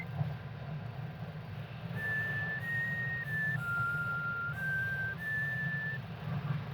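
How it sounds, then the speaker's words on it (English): A character in the OMORI video game whistles a slow, clear tune of several sustained notes, moderately loud over a low rumbling background drone. "Is that Kel whistling?"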